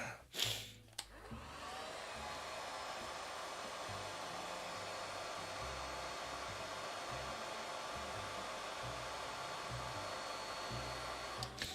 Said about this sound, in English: they don't really like the hair dryer